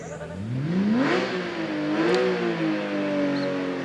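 A rally car engine revs hard on a night hillclimb, rising in pitch as it accelerates, easing, then climbing again, loud and steady with no talk over it.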